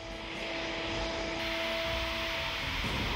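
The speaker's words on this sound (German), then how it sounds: "Das Geschwader verfügt über 30 Mehrzweckkampfflugzeuge vom Typ Eurofighter." A Eurofighter multirole combat jet of the German Luftwaffe's Tactical Air Force Wing 31 flies over its air base, a loud continuous engine roar with a steady whine that grows slightly and shifts in pitch as it passes.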